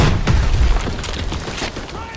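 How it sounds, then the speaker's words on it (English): A grenade explosion in the World War II shooter Call of Duty: WWII, a loud, deep boom with a rumbling tail lasting about two seconds amid game noise. "Screw it, I'm throwing a grenade."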